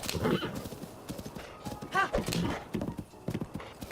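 Horse hooves clip-clop at a steady gallop in Zelda: Breath of the Wild, with a sharp neigh cutting through the middle, all layered over game ambience and faint talk.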